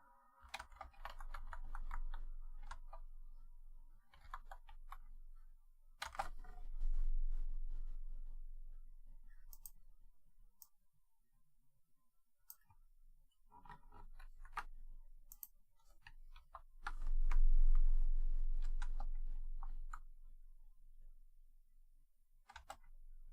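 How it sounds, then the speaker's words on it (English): A mechanical keyboard clacks with scattered clusters of crisp keystrokes and quiet gaps between them, close and fairly quiet, with soft low rumbles at times and no talking. "Deep contemplation over the sound of a mechanical keyboard"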